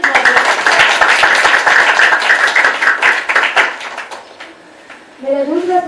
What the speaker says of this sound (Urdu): تالیاں بجائے کریں نا